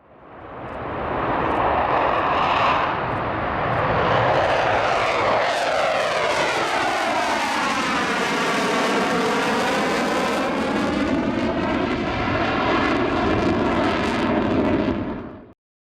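A French Rafale fighter jet flies past, its loud, sustained engine roar swelling and sweeping with a shifting whine as it passes, with no voices.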